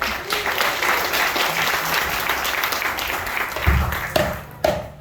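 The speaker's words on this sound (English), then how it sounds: "round of applause for our dancers" An audience at the Hawaii Village of the Polynesian Cultural Center on O'ahu gives the dancers a steady round of applause. It thins out toward the end, where a couple of sharp sounds and a brief voice cut through.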